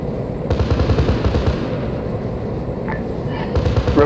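Sustained rumbling gunfire from a support aircraft's gun run in Arma 3, a dense rolling barrage of rapid shots that stays loud throughout, with brief higher crackles near the end.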